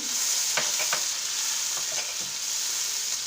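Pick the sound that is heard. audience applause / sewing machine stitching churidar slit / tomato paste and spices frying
tomato paste and spices frying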